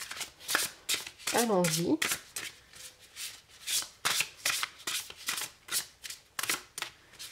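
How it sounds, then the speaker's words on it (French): Oracle cards riffled and shuffled by hand in a quick, crisp run of papery bursts, close up, with a short spoken phrase near the start. "Alors on va tirer donc deux cartes."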